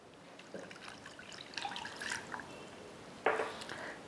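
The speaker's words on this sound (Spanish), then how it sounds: "Agregamos una taza de agua" Water from a cup poured into a small pot of cornstarch mixture for a strawberry cheesecake topping, a soft trickling splash in a quiet kitchen, with a brief louder pour near the end.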